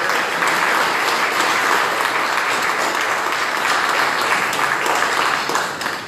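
Steady, loud applause from an audience at a Christian leadership conference, a dense wash of clapping that carries on unbroken for several seconds before easing slightly at the end.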